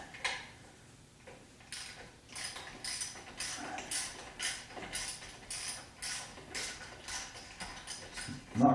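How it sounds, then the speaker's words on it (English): Wrench turning a bolt while the AC compressor comes off a 1976 Corvette, quiet, close, irregular metallic clicks and creaks repeating every half second or so in a hushed workspace. "Open end to the box end wrench to hold the bolt."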